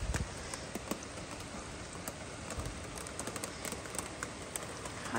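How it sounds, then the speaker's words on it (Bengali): A sudden hailstorm of hail and rain makes a dense, steady patter with scattered sharper hits throughout, a continuous wash of falling drops and ice with no voices. "হঠাৎ করে শিলাবৃষ্টি শুরু হয়ে গেল।"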